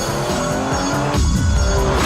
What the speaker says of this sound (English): When I pull this paddle here, the clutch disengages, the cogs are swapped, and then the clutch re-engages, all in 100 milliseconds.